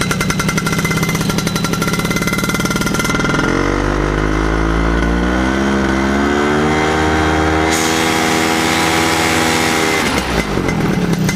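A Hirth F33 engine on a home-built paramotor trike runs loud and close, starting with a rapid chattering idle, then revving up into a sustained harsh buzzing drone before dropping back to idle.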